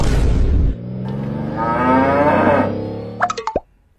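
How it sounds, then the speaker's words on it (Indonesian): A Limousin cow gives one long, low moo that swells and fades over a few seconds, close and clear, followed by a few short plopping sounds. "pernah dengar tidak tentang sapi limosin?"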